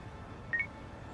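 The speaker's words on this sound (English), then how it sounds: "Kasuga, call me on your phone" A cellphone keypad being dialed in the video game Yakuza: Like a Dragon, one brief faint pair of beep tones in an otherwise quiet stretch.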